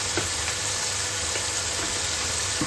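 Ingredients sauté in a pan for a curry, giving a soft, steady sizzle and crackle with a few faint stirring scrapes. The sound stays low and even throughout, with no talking.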